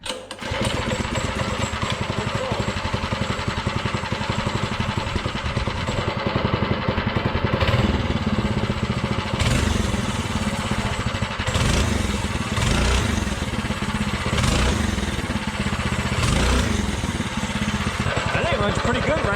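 A freshly started mini bike engine runs on, a loud, close, continuous buzzing putter that rises in a few brief revs.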